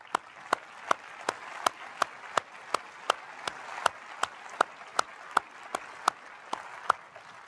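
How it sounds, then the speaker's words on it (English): Applause at a University of North Georgia fall 2023 commencement ceremony comes as crisp, evenly spaced claps in a steady rhythm, about three a second, over a faint hall ambience. "I want to give you a round of applause."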